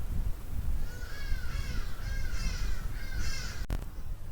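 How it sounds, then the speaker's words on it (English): Loud hadeda ibises call outdoors in a run of harsh, repeated honking cries, about five bursts in a row over a low background rumble, with a short sharp click near the end. "In case you're wondering what those loud birds are, they're called hardy-dars"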